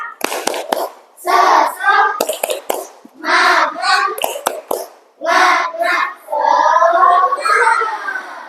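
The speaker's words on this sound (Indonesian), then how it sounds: "Yuk, kita tambah semangat kita dengan tepuk semangat dulu." Children in an Indonesian classroom chant a "tepuk semangat" cheer in unison while clapping sharp, rhythmic beats between the words, a loud group cheer with repeated clap patterns.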